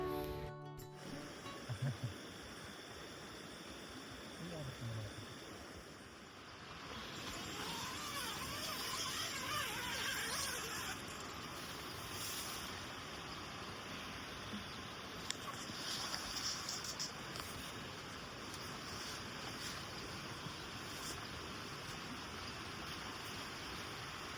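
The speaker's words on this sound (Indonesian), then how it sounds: "benar-benar hening dan didengarkan suara aliran sungai yang menyenangkan" A river stream flows steadily beside a quiet campsite at Kalikebo in Blitar, a soft, continuous rushing wash heard alone and fairly close throughout.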